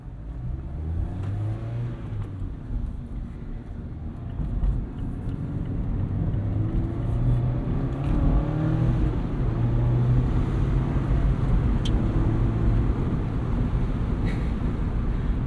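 A 2024 Mazda MX-5 Miata ND3 cruises on a highway at rush hour, a steady low engine and road rumble inside the cabin that gradually builds in loudness, with no talking.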